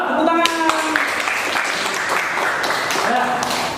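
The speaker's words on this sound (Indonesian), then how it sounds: "Tepuk tangan." Classroom applause for the winning discussion group, a burst of clapping from students that starts with a few sharp claps and fills in, mixed with voices and a pitched sound near the start.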